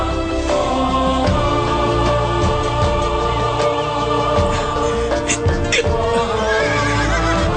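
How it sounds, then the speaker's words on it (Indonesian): Wild twin horses neigh loudly and repeatedly over a dense, continuous layer of dramatic music, the whinnies close and prominent in a dramatized legend scene. "Di mana kuda-kuda liar yang kembar dilahirkan dan dirawat di sini dengan baik."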